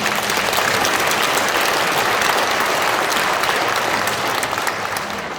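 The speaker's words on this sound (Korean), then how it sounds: "이 박수는 자발적으로 나온 걸로 알고 있을게요" A hall audience at a Catholic talk on online mission breaks into sustained applause, dense and steady for several seconds before easing slightly at the end, with no speech over it.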